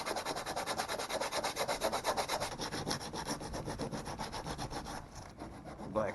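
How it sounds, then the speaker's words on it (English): Coarse 80-grit sandpaper rubs back and forth over a kayak repair in quick rhythmic strokes, a close, fairly quiet scratchy rasp that eases off near the end. "I think I could probably smooth it down well enough with this 80 grit."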